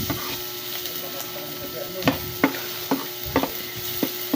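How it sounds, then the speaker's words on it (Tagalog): Onion and garlic sautéing in an electric cooker: a steady soft sizzle close by, with a spoon scraping and tapping the pot every half second or so in the second half. "Inuna ko po yung sibuyas at bawang"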